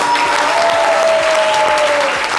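Loud, sustained applause from a large crowd, dense and steady throughout, with a faint tone running beneath the clapping.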